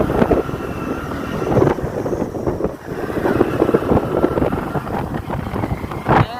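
A motorbike rumbles along a rough, potholed country road between Dharoi and Khedbrahma, with steady engine drone, heavy wind buffeting and jolting rattles throughout, loud and close.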